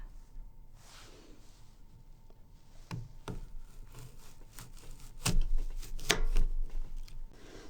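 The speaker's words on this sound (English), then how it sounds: "what we're going to do is take our knife and we're going to cut it" A knife cuts an apple on a board, one-handed, with a few sharp, distinct chops spaced seconds apart over a quiet background, the last two the loudest.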